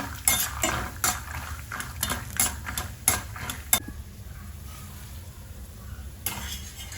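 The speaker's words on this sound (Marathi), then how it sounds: "तर आता या उरलेल्याच तेलामध्ये ना मी शेंगदाणे गळून घेणार आहे" Peanuts tossed in leftover oil in a pan: a spoon scrapes and clinks against the metal in repeated strokes over a faint sizzle, the stirring stopping partway through before one last clatter.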